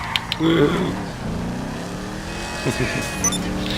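A GTA 5 Online Vigero car engine revs and whines as tires squeal briefly in a spin, with game sound effects layered over a steady engine drone.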